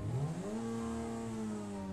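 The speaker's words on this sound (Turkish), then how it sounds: "Çok güzel, motor sesi güzel." A car engine in GTA 5 revs up sharply then holds a steady droning pitch, loud and close, with no voices.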